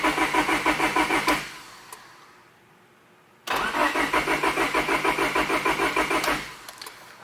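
A turbocharged Honda Civic engine cranks over repeatedly without catching, a fast rhythmic starter chug in two long bursts separated by a quiet pause, loud and close.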